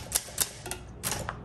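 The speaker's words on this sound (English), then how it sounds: "Every typewriter has a different feel. I was hitting the keys pretty hard" Typewriter keys striking on a 1958 Olympia SM3 manual typewriter, a handful of sharp separate clacks in an uneven rhythm, close and fairly loud with no talking.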